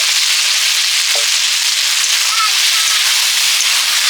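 Fried potatoes dropped into hot oil in a pan, a dense steady sizzle that fills the whole clip, close and loud, with a couple of faint stirring knocks.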